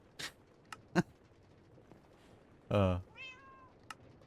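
A cat in a video game gives one clear, close meow with a rising and falling pitch, followed by a shorter second cry, set among a few soft clicks and taps.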